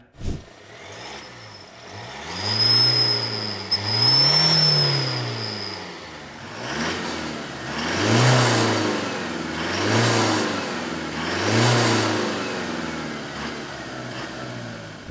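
Pickup truck engine, a Ford Ranger Wildtrak or Toyota GR Sport set up for drag racing, revs hard several times: a long climbing rev, then four or five sharp repeated blips, loud and close, with no talking.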